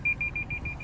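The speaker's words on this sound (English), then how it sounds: "You can hear the beep is getting louder" A 2016 Toyota 4Runner Limited's parking sensor beeps while the SUV reverses, a rapid run of evenly spaced, high, clear electronic tones over a low engine hum.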